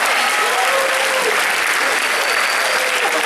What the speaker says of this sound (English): Let's give them a round of applause for coming here as well